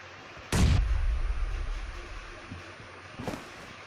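A grenade blast in a mobile shooter game lands as a sudden loud boom with a long rumbling tail, followed by a second, fainter burst about three seconds later.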